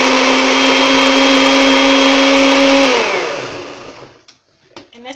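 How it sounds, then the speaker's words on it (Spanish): A kitchen blender grinds garlic and chipotle chile, a loud steady whirring motor that runs for about three seconds and then winds down, followed by a few faint clunks and clicks. "Y todo esto lo vamos a moler en la licuadora."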